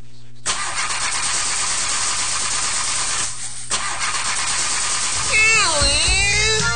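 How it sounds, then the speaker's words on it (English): A car engine cranks with a loud, continuous grinding whir close by but never catches, pausing briefly midway, before a whining, cat-like voice cuts in near the end. "I can't get the car started"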